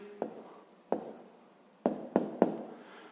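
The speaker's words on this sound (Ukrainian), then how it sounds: "Записуємо відповідь." A pen writes an answer by hand on paper in a fifth-grade maths exercise: five short, crisp scratching strokes, spaced unevenly and heard up close in a quiet room.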